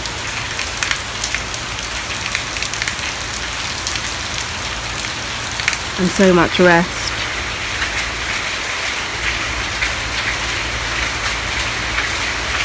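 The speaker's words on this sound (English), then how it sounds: "It's raining." Steady rain falls on surfaces outside a house in Beani Bazaar, Bangladesh, a dense even patter running throughout, with a brief spoken phrase near the middle.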